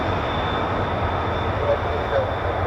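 Broadband roar of F-35B stealth fighter jet engines rumbling steadily at a distance near hangars at an air station, with no distinct passes or talk.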